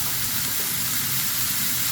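Ground beef with 25% fat sizzles in a hot pan with no added fat or butter, a steady close frying hiss throughout.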